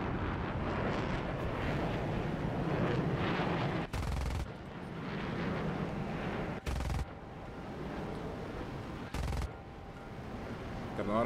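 Continuous gunfire from an F-100D Super Sabre jet in the combat game War Thunder, a dense roaring rattle mixed with engine and wind rush, broken by three short pauses.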